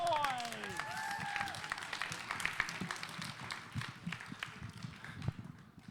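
Quiet, scattered applause from an audience at a grade 11/12 spoken word poetry competition, faint and distant, with a few higher tones near the start and a crowd murmuring underneath.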